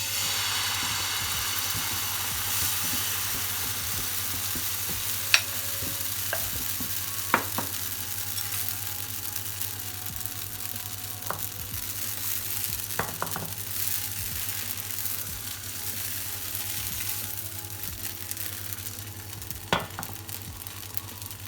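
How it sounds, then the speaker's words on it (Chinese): Chive flour-cake batter poured into a pan already greasy from fried dried shrimp, frying over low heat with a steady soft sizzle, a few sharp clicks and taps scattered over the hiss, close and without talk. "就把我们的面糊下去，因为刚才我们煎了虾米是有油的。"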